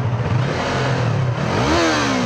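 A Yamaha R3 twin-cylinder motorcycle engine idles roughly up close, then blips sharply upward in revs near the end, loud and without talk.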